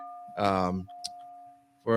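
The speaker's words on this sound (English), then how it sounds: "we can officially now just ring the bell" A bell rings to close a live weekly podcast show, its steady ringing tone sustained beneath bursts of someone talking.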